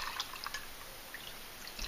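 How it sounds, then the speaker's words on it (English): Orange juice is poured into a cocktail tin for a New Orleans-style Hurricane, a faint, steady trickling splash with small drips throughout and no talking. "Next up, we're going to put in 3 ounces of orange juice."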